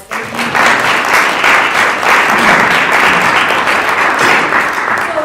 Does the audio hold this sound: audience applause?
yes